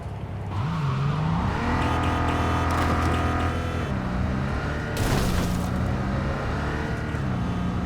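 A car the player paid 200 grand for is driven in Cyberpunk 2077, its engine a steady loud drone that rises and falls in pitch as it accelerates and shifts, with no talking.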